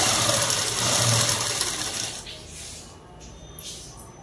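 A sewing machine stitches cloth in a straight line while a dress is being sewn, giving a close, fast mechanical whir that fades after about two seconds. Light clicks and handling noises follow.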